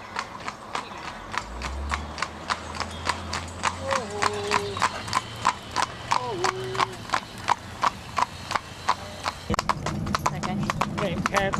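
A small harnessed pony's hooves clip-clop on a road in a steady trotting rhythm, close and clear, while an engine rumbles low and a person talks over it.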